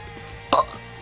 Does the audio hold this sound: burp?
yes